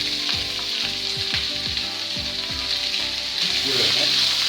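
Sausage sautés in a pan seasoned with paprika and cayenne, giving a loud, close, crackling sizzle with a few clattering stirs and scrapes near the end.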